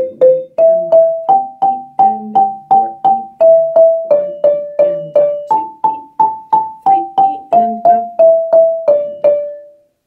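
A mallet instrument plays the basic lead line of Shamwari, a steady run of about two dozen clear, evenly spaced struck notes stepping up and down in pitch, played alone and ringing out on the last note.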